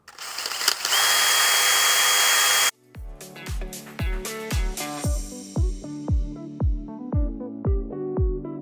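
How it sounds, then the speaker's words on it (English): A power tool whines at high speed for a few seconds, then bursts of drilling follow as 1/8 inch holes are bored into a guitar output jack plate, each short rising whir repeating about every half second. "But first, let's drill these 1/8 inch holes."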